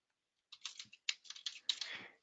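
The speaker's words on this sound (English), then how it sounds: "And I'm going to type in General Journal." Fingers type on a computer keyboard, a quick close run of crisp key clicks in short bursts after a moment of silence, with no talk.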